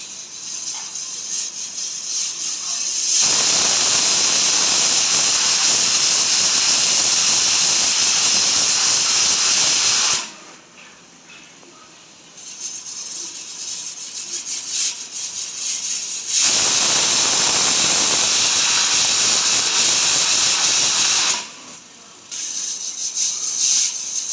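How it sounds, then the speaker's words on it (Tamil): A pressure cooker of mutton bone soup on the stove lets out loud, sustained steam whistles: two long roaring hisses, each several seconds, separated by a brief drop to a softer background hiss. "மூணு விசில் வந்துருச்சு"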